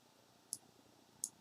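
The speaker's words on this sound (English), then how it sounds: "Double click that and see what it was." Two crisp, quiet clicks from a computer mouse, spaced about 0.7 seconds apart, sharp and close against a near-silent background.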